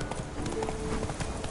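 The horse in Witcher 3 trots with clear, close clip-clopping hooves in a quick, even rhythm, with faint game sounds and a voice lightly behind.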